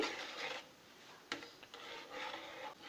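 Sugar being stirred into rice in a pan for jorda polao, soft scraping and rubbing strokes close by, with a sharp knock partway through.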